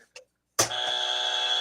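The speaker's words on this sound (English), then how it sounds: "Can we get a buzzer on that one?" A loud, harsh game show buzzer blares alone for about a second, sustained and steady after a short faint blip.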